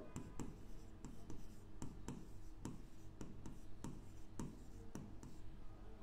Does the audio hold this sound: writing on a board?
yes